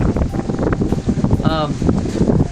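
A sailboat runs fast before a strong wind offshore, with steady wind rush and water noise buffeting the microphone throughout, and a person's voice talking over it.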